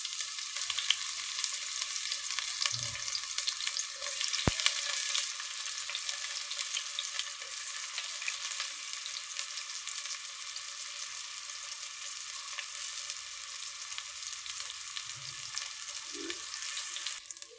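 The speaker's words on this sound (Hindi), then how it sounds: "हरा प्याज को ज़्यादा फ्राई नहीं करेंगे हम" Green onion frying in a hot pan for chicken biryani gives a steady, even hiss of sizzling oil throughout, with a few soft low knocks from the pan.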